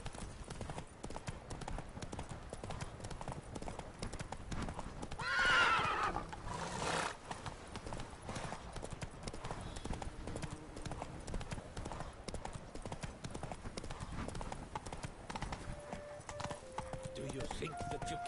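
A horse gallops in The Witcher 3 Blood and Wine, its steady hoofbeats fairly faint and blended into a constant background wash, with a brief louder swell partway through.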